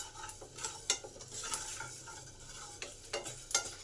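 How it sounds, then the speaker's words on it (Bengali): Whole spices dry-roast in a pan on a gas stove, crackling and popping in scattered sharp bursts along with the faint scrape of a stirring spoon, close and fairly quiet with no talk. "এই যে চড়বড় করে আওয়াজ হচ্ছে এটাতেই বুঝে নিতে হবে মশলাগুলো আমার ভাজা হয়ে গেছে।"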